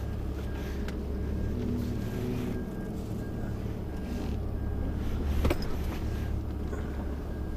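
A DAF truck reverses slowly across a car park, its diesel engine a steady low rumble throughout with a faint mechanical clunk near the middle.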